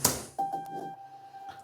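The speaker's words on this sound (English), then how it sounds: "which is just like a chopped up and very delayed version of the very first note," A chopped, heavily delayed piano note stutters in short repeated bursts after a brief lead-in, ringing on a steady tone that fades out.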